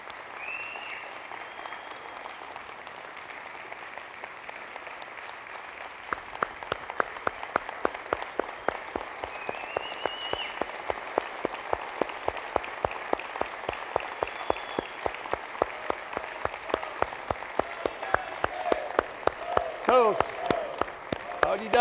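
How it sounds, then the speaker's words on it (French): Audience at a union council meeting breaks into applause that turns into rhythmic, unison clapping, loud and steady for many seconds, with some cheers and voices mixed in. "ils méritent une main d'applaudissement pour leur bataille"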